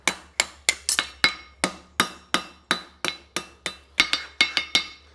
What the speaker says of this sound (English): Forge the end of the heel on.